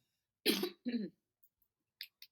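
Two harsh coughs close to the microphone, followed by a couple of faint short sounds in otherwise quiet surroundings.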